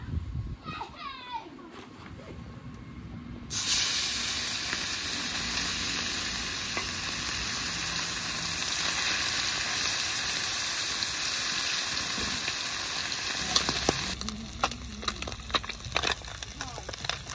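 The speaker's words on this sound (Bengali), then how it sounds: "এবার মাছগুলো তেলে ছেড়ে দিচ্ছি।" Small puti fish dropped into hot oil, bursting into a loud, dense sizzle that holds steadily for about ten seconds before easing, with faint voices in the background before it starts.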